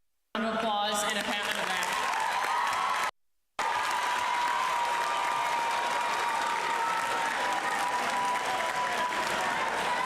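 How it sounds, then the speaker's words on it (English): An audience applauds at the Kaynor Tech 2025 graduation ceremony. The sustained clapping is fairly distant, broken by one brief silent gap before it resumes steadily. "give yourself a round of applause and a pat on the back"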